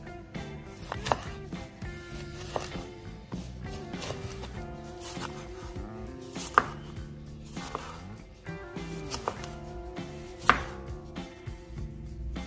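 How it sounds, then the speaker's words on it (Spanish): Tomatoes being sliced into thin rounds with a knife on a cutting board for a tomato tart, producing a steady series of close, crisp chopping taps with occasional sharper knocks. "Los vamos a cortar en rodajas finitas."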